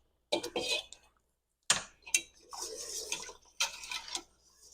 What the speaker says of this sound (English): I'm going to whisk it to get it all combined.